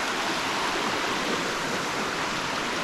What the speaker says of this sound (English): The running water that runs down the mountainside.